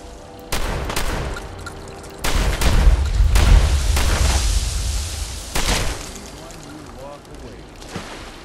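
Gunfire in Fallout 4: Far Harbor: several loud, close blasts with booming low ends and a sustained burst of shots in the middle, separated by brief pauses.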